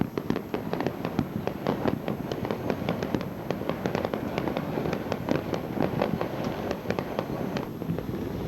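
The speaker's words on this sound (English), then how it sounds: "the fireworks." Fourth of July fireworks seen from a rooftop crackle and pop continuously, dense rapid bursts layered over a steady rumbling roar, loud and fairly close, with no talking.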